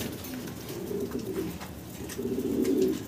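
A female pigeon at a pigeon seller's coos softly in low, rolling murmurs, two drawn-out phrases close by against faint background noise.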